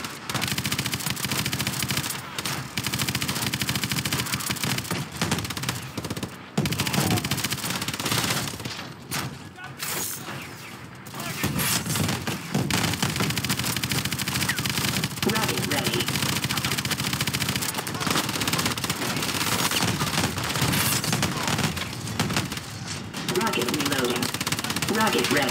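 A vehicle's main gun in Call of Duty Advanced Warfare fires in rapid sustained bursts over engine rumble and explosions, with a few brief pauses and voices talking throughout.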